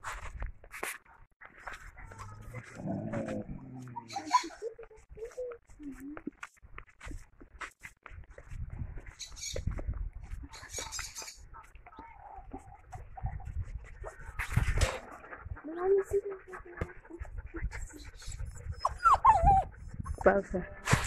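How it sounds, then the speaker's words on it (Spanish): Dogs whimper, yip and scuffle around a rural ranch kitchen, close and intermittent, with footsteps, clatter and scattered talk mixed in. "Ay, perros, no se están peleando."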